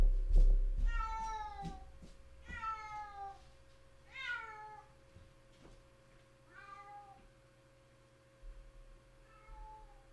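A house cat meows repeatedly, with five drawn-out, pleading cries spaced a second or two apart, loud and close against a quiet indoor background and a faint low hum.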